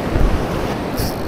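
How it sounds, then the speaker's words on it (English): Ocean waves wash steadily near a salmon fishing boat in the late afternoon, a loud broadband roar of surf mixed with wind buffeting the microphone, with no talking. "you can't hear it over the waves"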